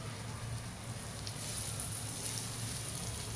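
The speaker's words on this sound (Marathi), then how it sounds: "चला, पहिलं पापलेट आपल्या तेलामध्ये सोडूया." Steady, close sizzling of a stuffed pomfret fish frying in hot oil in a pan. The crackle stays even and grows a little louder partway through, with no talking.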